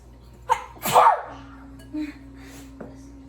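A single sharp sneeze bursts out up close, preceded by a quick intake of breath, followed by a faint hum and small noises.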